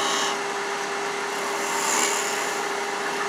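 A beading and parting tool cuts a bead on spinning wood on a lathe, giving a steady scraping hiss over a constant motor hum throughout.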